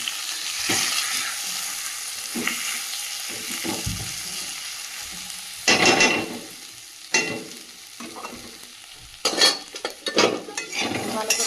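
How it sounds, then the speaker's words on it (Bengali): Whole potatoes sizzle and fry in a pan of spice masala for a potato dal, while a metal spoon stirs and scrapes in bursts against the pan. "তো গোটা অবস্থায় আলুগুলো এইভাবে গালিয়ে দেবো।"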